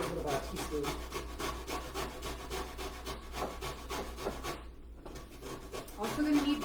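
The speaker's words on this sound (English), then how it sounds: "So to make lime zest, you just use a grater." Lime is grated into zest on a fine grater onto a plate, with quick rhythmic scraping strokes close by and quiet talk underneath.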